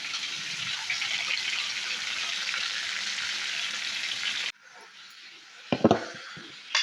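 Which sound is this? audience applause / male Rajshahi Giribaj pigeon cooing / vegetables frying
vegetables frying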